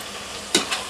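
Large chicken pieces sautéing with mint leaves in a pan for biryani, a steady close sizzle with a quick scrape of stirring partway through.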